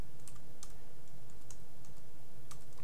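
Quick bursts of typing on a computer keyboard, a few scattered clusters of light clicky keystrokes near the microphone, fairly quiet, with no talking.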